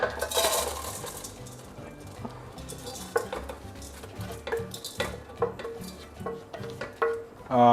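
A spoon scrapes and knocks against an electric rice cooker pot as rice for chicken rice is mixed, giving irregular clinks and soft rustling scrapes up close, with no voices.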